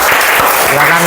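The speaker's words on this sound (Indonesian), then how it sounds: "kita kasih aplaus untuk kelompok 5" A classroom audience claps for a student group after its presentation, a steady wash of applause lasting about a second with voices mixed in.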